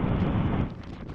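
Heavy wind buffeting the microphone while riding a motorcycle through a windstorm: a loud, low, continuous rumbling roar, close and unbroken, easing slightly toward the end.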